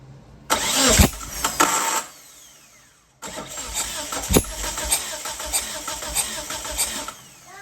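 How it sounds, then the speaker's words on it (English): A 1997 Mitsubishi Eclipse GSX engine cranks over twice, each burst a rapid rhythmic churning of the starter lasting a second or more, separated by a short pause, close and loud. "Crank it a couple times, get the fuel out of there if there is any."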